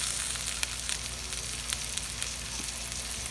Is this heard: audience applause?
no